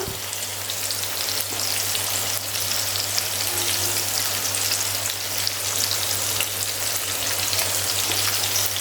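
Stuffed chimni fish frying in a pan gives a loud, steady crackling sizzle close up, unbroken for the whole stretch over a low hum, with no voices.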